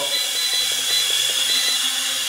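A FLYHAL E69 mini camera drone hovers indoors, giving off a steady, close, high-pitched propeller whine with faint pulsing motor tones underneath and no talking.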